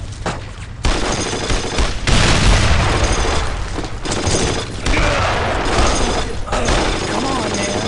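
Heavy, continuous gunfire in the World War II shooter game Brothers in Arms: Road to Hill 30, with loud volleys of rifle and machine gun shots and deep booms while soldiers shout over the battle.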